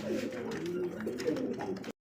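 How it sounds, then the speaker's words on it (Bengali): Pigeons cooing at a poultry farm where birds are sold, a low steady murmuring coo from several birds close by that runs continuously before cutting off abruptly. "প্রিয় দর্শক চলে আসলাম আরও এক পেয়ার কবুতর নিয়ে"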